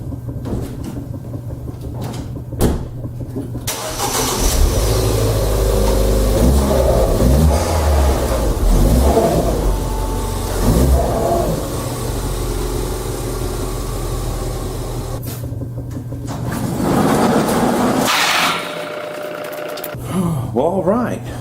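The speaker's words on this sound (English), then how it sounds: "I'm just gonna move the Fiesta and get to work" A Ford Fiesta's engine starts and the car is driven off nearby, a steady running drone with rising revs as it moves, then cutting off near the end, with some talking over it.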